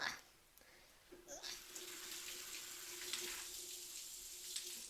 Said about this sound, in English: Sometimes when you cook, you just need to take a second and wash your hands real quick